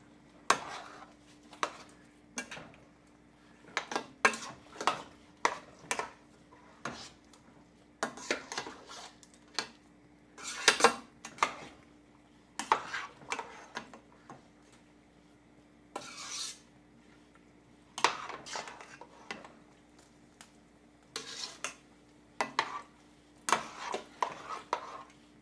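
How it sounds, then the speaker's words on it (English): Peach salsa being stirred in a bowl to dissolve sugar: a series of quiet scraping and clinking strokes of a utensil against the bowl, irregular and spaced, over a faint steady hum. "Giving it a good mix, getting that sugar dissolved."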